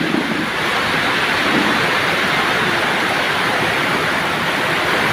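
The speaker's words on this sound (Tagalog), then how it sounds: "Lumakas ang ulan. Hagupit ng ulan ngayon guys" Heavy rain pours down in a dense, steady roar, loud and continuous with no voices.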